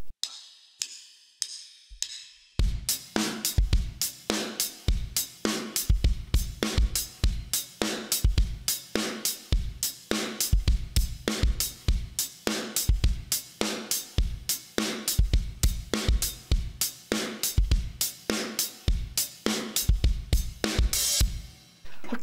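A drum kit loops a two-bar verse groove from a song, steady kick, snare and hi-hat hits in a driving rhythm, played alone at moderate loudness after a few sparse opening taps.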